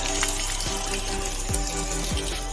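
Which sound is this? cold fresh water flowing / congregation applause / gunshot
cold fresh water flowing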